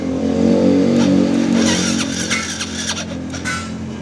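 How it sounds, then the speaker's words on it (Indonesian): A Yamaha Vega motorcycle's electric starter cranks laboriously, as if the engine is about to catch but feels heavy. A loud, low, grinding whir holds steady and then weakens, with faint clicking toward the end. "Sekarang coba kita starter ya. Kunci kontak on, dengarkan."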